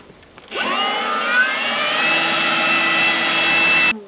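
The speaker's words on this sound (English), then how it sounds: "behind us, we've got Ant with the leaf blower" Leaf blower used to blow bees off honey frames during an outback honey harvest, its motor spinning up quickly into a loud steady whine that holds for a few seconds, then cuts off.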